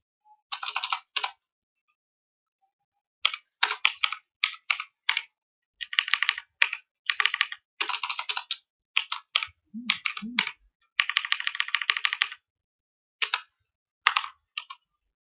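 Fast typing on a computer keyboard while building an HTML and CSS website, close and clear, coming in bursts of rapid clicking key presses separated by short pauses, with a couple of brief low murmurs but no clear speech.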